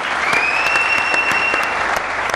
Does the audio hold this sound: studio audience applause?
yes